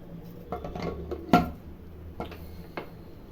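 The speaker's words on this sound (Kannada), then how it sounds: "ಈಗ ಕುದಿ ಬಂದಿದೆ ಮುಚ್ಚಳ ಹಾಕ್ತಾ ಇದ್ದೀನಿ" Several sharp metallic clanks and knocks, one louder clunk in the middle, as a pressure cooker lid is set and locked onto boiling chicken biryani, with quiet pauses between.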